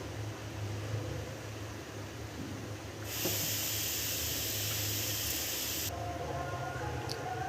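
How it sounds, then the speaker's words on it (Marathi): Modak dumplings sit in a sieve over a pot of boiling water, giving a steady close hiss of steam that swells loudly midway and then drops back, over a low constant hum. "आता आपण याला वाफवून घेऊया एका भांड्यामध्ये आपण पाणी ठेवलं त्याच्यावर बघा चाळणी ठेवलेली आहे"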